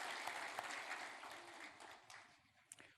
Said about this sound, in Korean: 다시 한번 우리 큰 박수로 하나님 앞에 크게 영광을 함께 돌리겠습니다